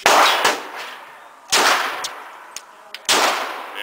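Three loud, sharp reports from a Glock 17 9mm pistol fired at an outdoor shooting range, spaced about 1.5 seconds apart, each with a ringing decay, and faint clinks between shots.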